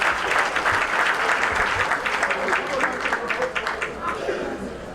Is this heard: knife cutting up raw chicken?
no